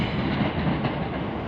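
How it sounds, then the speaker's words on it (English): A Networker electric multiple unit rolls through London Bridge station on a service to Beckenham Junction, giving a steady, loud, close rumble with faint rail clatter and no voices throughout. "it's just that train on its own and it's working service to Beckenham Junction"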